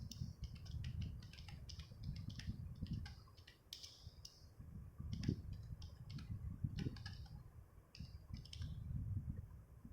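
Rapid, irregular clicking of a computer keyboard as text is typed during a school IT lesson, keystrokes coming in quick bursts over a low background rumble, close and fairly steady throughout.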